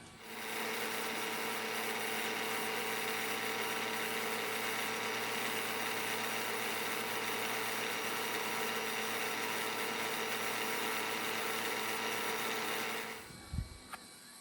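A milling machine cuts a 1-inch slot in a push stick, a loud steady whine that holds for about thirteen seconds and then winds down and stops.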